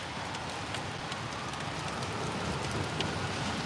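Steady rain pours down continuously, a dense hiss of drops with occasional sharper patters, no voices.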